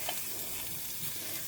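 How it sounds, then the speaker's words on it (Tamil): Vegetables with fresh grated coconut, green chilies and coriander leaves being stirred in a frying pan, giving a steady, loud, continuous sizzle with faint scraping throughout. "இது ஒரு பெரட்டிட்டு"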